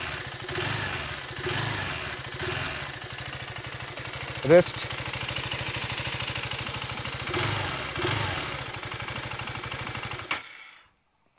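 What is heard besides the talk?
KTM Adventure 390X motorcycle exhaust idling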